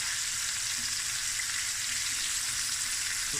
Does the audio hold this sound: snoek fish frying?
yes